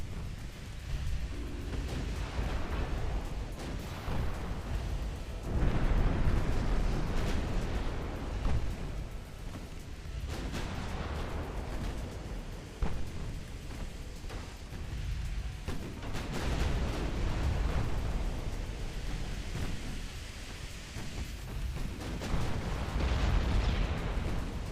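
Naval battle in a video game, with continuous booming gunfire and torpedo explosions from battleships and cruisers rolling into one another, loud and dense with no pause.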